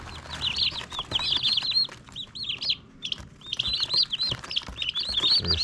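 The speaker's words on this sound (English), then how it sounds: "there they are, some bourbon red turkeys" Many Bourbon Red turkey poults peep in rapid high chirps, clustered close together in a brooder in busy overlapping bursts with brief soft gaps, some faint rustling and flapping.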